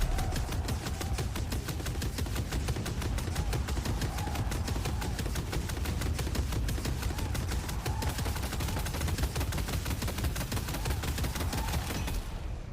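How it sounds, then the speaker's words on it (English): McGinnis's Spectral Barrage ability from the video game Deadlock, a rapid, evenly pulsed volley of sharp impacts that hammers on steadily for the whole stretch and then cuts off, heard alone with no voices. "You also got some updates with McGinnis's fourth ability. Its sound has been updated."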